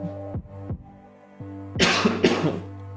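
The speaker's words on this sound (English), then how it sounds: "I wish this cough would go away." A person recovering from an illness coughs several times: a few short, soft coughs at first, then two louder, harsher bursts close to the microphone.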